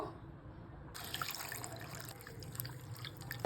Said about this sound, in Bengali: আমি চিড়েটাকে ভালো করে ধুয়ে নেব।